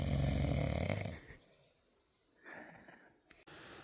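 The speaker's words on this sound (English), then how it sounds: "Fat snoring pig." A person snores loudly at a wild woodland campsite, one long rasping snore near the start, followed by quieter breathing and faint outdoor night sounds.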